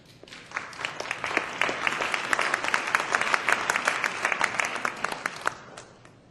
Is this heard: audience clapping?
yes